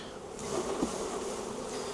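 Honeybees buzz in a steady, close drone as a hive is opened for inspection during swarm-prevention checks, with varroa mites present on the bees.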